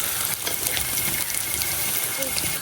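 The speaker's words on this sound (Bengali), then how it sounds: "পেঁয়াজ আদা রসুনটা একটু ভাজা হয়ে গেছে।" Onion, ginger and garlic sizzle steadily in a pan for homemade mini singara, a continuous broadband frying hiss with faint clinks, close and fairly loud throughout.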